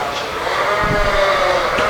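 Horn Dorset sheep bleat at a sheep show, a loud, close, wavering bleat that holds for about two seconds over a busy show-ring background.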